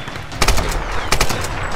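Enemy gunfire in Tomb Raider comes as two short bursts of rapid automatic shots, loud and fairly close over a steady background rumble.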